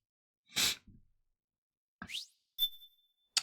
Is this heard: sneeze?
yes